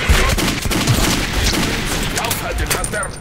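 Dense, sustained gunfire from the post-apocalyptic shooter Metro 2033, rapid overlapping shots and bursts filling the whole stretch at high volume, with players' voices shouting beneath the barrage.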